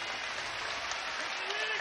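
An arena crowd at a K-1 featherweight tournament kickboxing bout applauds in a continuous, wash-like roar, with commentators' voices faintly beneath it.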